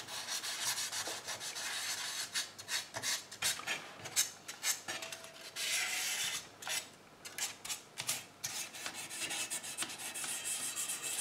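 Paint being sanded by hand off a damaged tin toy, a steady close scratchy rasping that keeps going in quick uneven strokes, with brief pauses and no talking.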